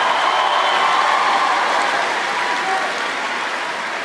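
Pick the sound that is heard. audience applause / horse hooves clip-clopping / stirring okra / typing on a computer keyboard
audience applause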